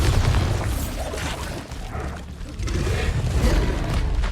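The Bombarda spell detonates in Hogwarts Legacy with a deep, booming rumble that swells, dips briefly and swells again, heavy and sustained across the moment.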